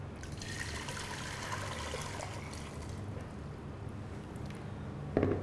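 Boiling water, 1.7 litres, is poured into a pot for coffee jelly, making a steady, soft trickling splash that runs continuously until a brief knock at the end.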